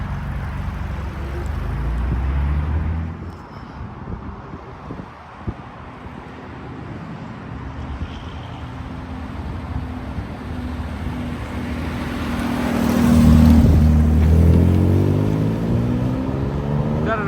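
A 1967 Austin Healey drives past on a road, its engine rising from a distant low rumble to a loud close pass around the middle, then fading off, with wind noise throughout.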